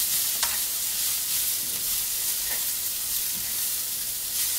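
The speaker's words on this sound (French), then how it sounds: "je vais rajouter un tout petit peu d'huile. Voilà. On mélange bien pour pas que ça noircisse." Food stirred in a pan with a little added oil, cooking over fairly high heat: a steady loud sizzle fills the whole stretch, broken by a few soft scrapes of the utensil, with no voices.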